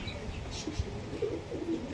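Madras pigeons at a seller's loft coo in short, soft bursts nearby, with a few chirps and some quiet background voices.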